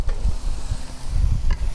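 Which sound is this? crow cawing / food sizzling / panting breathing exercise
food sizzling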